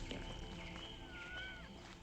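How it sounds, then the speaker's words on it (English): A cat meows in the video game The Wild at Heart, a short, wavering mewing call over a steady background of game music and ambience, fairly faint. "We'll go ahead and rescue another one of Litterbox's cats"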